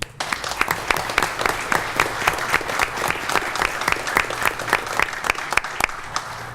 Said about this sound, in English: I think Chief Wilcox deserves a round of applause as well